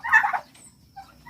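A turkey gives a short burst of rapid, warbling gobbling, loud and close, followed by faint scattered calls in a quiet setting.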